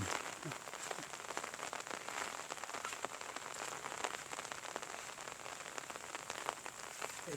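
Steady rain pattering on a surface, a dense continuous patter with occasional louder drops, no voices.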